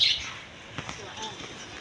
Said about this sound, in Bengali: এদিকে আছে অস্ট্রেলিয়ান ঘুঘু পাখি